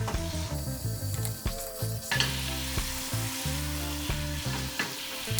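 A rum-lime pan sauce boils hard in a pan, its steady sizzle and bubbling joined by repeated scraping strokes of a wooden spoon across the bottom, close and continuous throughout.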